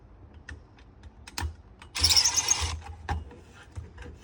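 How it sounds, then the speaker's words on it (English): A hose clamp is tightened around a shed pole. Scattered light clicks and taps lead to a short rasping burst of mechanical noise lasting under a second, then a few more clicks follow. "We want to do up our hose clamp."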